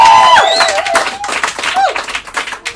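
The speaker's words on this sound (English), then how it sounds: "Big round of applause for Belle Taylor." Applause and cheering from a comedy show audience at a live event, loud and busy, with some whoops and voices mixed into the clapping throughout.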